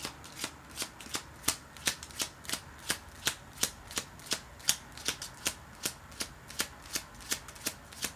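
A deck of tarot cards is shuffled in quick, even riffles. The crisp, close snaps repeat about three times a second and steadily with no talking.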